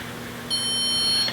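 A short, high electronic beep from a Zircon StudSensor e50 stud finder sounds once, steady and clear, over faint room noise.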